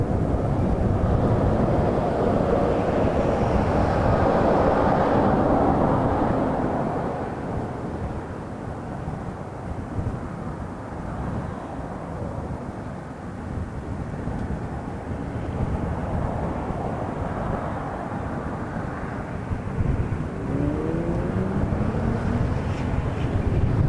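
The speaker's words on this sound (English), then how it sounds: "From Calgary, Embraer 195 E2." An Embraer 195 E2 arriving from Calgary rumbles at Toronto Pearson airport on a cold, windy day, a broad jet roar that eases in the middle and swells again, mixed with wind buffeting the microphone.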